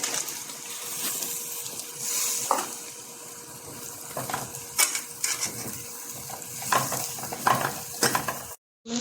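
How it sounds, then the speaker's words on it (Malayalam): Chopped onion tipped into a hot pan for a Kerala-style chicken roast, frying with a steady broadband sizzle and scattered clatter of stirring against the pan, loud and close with no voices. "ഇതിലേക്ക് നമ്മൾ അരിഞ്ഞ് വെച്ച് ഓണിയൻ ഇട്ട് കൊടുക്കും"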